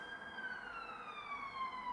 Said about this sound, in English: Lovely ambulance.